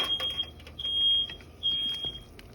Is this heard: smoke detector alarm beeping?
yes